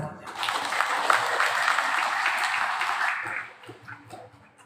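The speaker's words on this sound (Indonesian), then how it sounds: "Tepuk tangan" An audience at the anniversary event and national working meeting of LSM Lira Indonesia, held at the Grand Whiz Hotel, applauds in a steady, hissing wash of clapping for about three seconds before it fades, with voices underneath.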